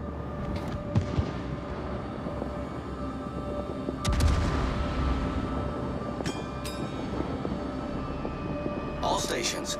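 Naval gunfire from the battleship Kremlin in World of Warships: heavy booming salvos under a constant low rumble, with a big blast near the middle and sharper cracks later.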